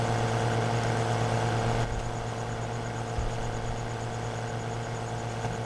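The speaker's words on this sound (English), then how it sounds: "you can hear the variations in the engine sounds" A Massey Ferguson tractor engine in Farming Simulator 2015 runs with a steady, loud idling drone and a slight shift in pitch partway through, heard alone without talk.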